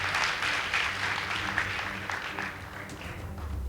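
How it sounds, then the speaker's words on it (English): An audience claps for a high school debate team at a girls' high school debate competition, a moderate, fairly steady patter of many hands that slowly thins out toward the end, with no talking. "Please give them a round of applause."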